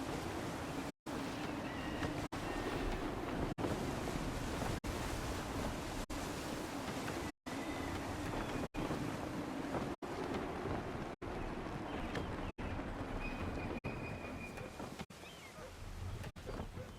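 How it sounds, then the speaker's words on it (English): Steady gusty wind and ocean waves while sailing a ship in Assassin's Creed 3, a broad continuous rushing wash with short clicks of interruption, no talking. "Wind looks to be shifting. Stay alert, Connor. Gusty winds can be difficult to manage."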